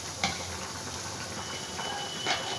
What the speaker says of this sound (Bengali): কত অল্প তেলে বেগুন ভাজা, দেখো।